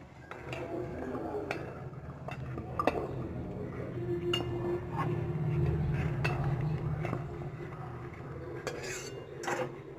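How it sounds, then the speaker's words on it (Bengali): A utensil scrapes and clinks against a metal pan while stirring okra being fried, in irregular strokes, close up, with a steady low hum beneath. "ঘোরাতে থাকুন চামচ দিয়ে হাতা দিয়ে খুন্তি দিয়ে"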